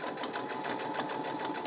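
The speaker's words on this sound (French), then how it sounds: "c'est parti pour la couture des anses" A sewing machine runs continuously as it stitches the handles onto a fabric tote bag, giving a fast, even mechanical whir and needle rattle, close and steady, with no talk.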